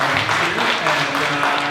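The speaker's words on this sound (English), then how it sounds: "How about we give a quick round of applause to our food sponsors today" A crowd at a Scarborough culture and cuisine community event applauds steadily with dense clapping, and voices call out under and over it.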